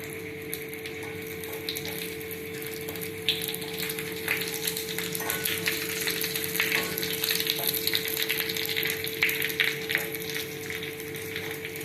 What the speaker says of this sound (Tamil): பெருங்காயம் மரமிளகா தாளிக்க போகிறோம்